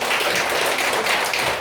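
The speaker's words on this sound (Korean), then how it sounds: "괜찮으면 박수 한번 부탁드리겠습니다." Applause from a church debate audience comes as a dense, continuous patter of many hands clapping, loud and close, with no talking over it.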